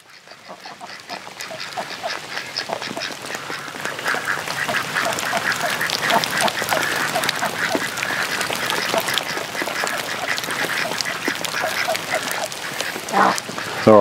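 Ducks quacking continuously in a loud, busy chorus as a drake chases a female, with rapid overlapping calls and splashing flurries close by, rising and staying dense throughout.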